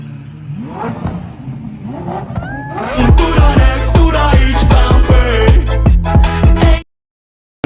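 A Kawasaki ZX-250 sport motorcycle engine revving hard and close, with rising and falling pitch and a rapid rhythmic growl, before cutting off abruptly.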